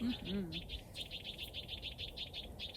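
Small bird calling outdoors in a rapid series of short, high chirps repeated steadily over nearby rustling, fairly faint, with a brief low voice at the very start.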